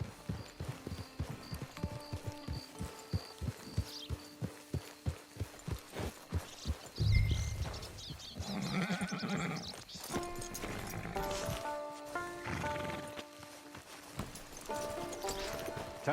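Horse hooves in Red Dead Redemption 2 Online, a steady rhythmic clip-clop of a horse moving, followed by a loud snort and a whinny, with scattered game sound effects and musical tones later on.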